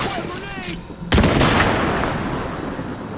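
Gunfire in the video game The Division: a single heavy shot bursts out partway through, with a rumbling tail, over game noise and a voice heard earlier.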